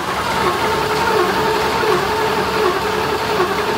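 A 1965 Mustang donor engine being cranked for its first fire, a steady loud mechanical churning drone that holds evenly throughout with no clear catch or speech over it.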